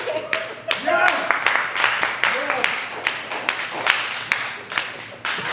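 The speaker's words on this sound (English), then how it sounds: "Big round of applause for Michelle, dude!" An open mic audience at Camp Bar claps in a steady patter of hands, modest crowd applause with cheering voices talking over it.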